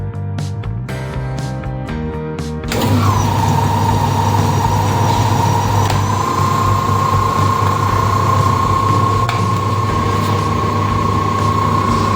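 A locomotive engine runs during alternator maintenance, with a few metallic clanks before it comes up to a loud, steady, close drone with a sustained whine over it.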